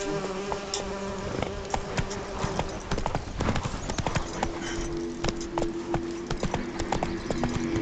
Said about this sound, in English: Come on. Run, Roach.